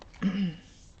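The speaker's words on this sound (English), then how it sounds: "Sorry about my cat." An old cat gives a single short meow nearby, a quick, fairly quiet call that fades into a soft room background.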